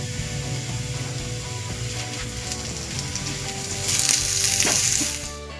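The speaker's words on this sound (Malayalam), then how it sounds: "ഉള്ളി വഴണ്ടി വന്നിട്ട് അതിലേക്ക് നമുക്ക് ഇഞ്ചിയും വെളുത്തുള്ളിയും ചേർത്ത്" Onion, ginger and garlic sautéing in a frying pan for egg puffs filling, a steady close sizzle throughout that swells louder near the end, with no talk.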